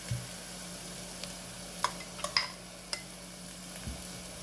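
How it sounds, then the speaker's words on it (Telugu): Tomato puree stirred into masala frying with onions for a dhaba-style Punjabi chana masala: a soft, steady sizzle broken by several sharp spoon clicks and scrapes against the pan, with no talking. "మసాలా కొంచెం వేగగానే ఏం చేస్తామంటే రుబ్బి పెట్టుకున్న టమాటా ప్యూరీ ఇది ఇందులో వేసేస్తున్నాను."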